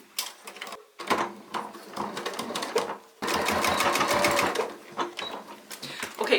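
A sewing machine runs with the regular presser foot, stitching all the way around a fabric tab on a cloth book. It makes fast, rattling bursts with a short pause near the start and a longer, steady run after.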